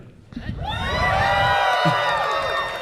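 A convention crowd at a Q&A panel cheers, whoops and shouts loudly, rising within the first second and holding at full volume, with high excited voices and yells layered through the sustained roar.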